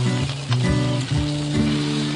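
Salmon fillet frying skin side down in a hot pan, a steady close sizzle with a low humming tone beneath, swelling slightly in a few pulses.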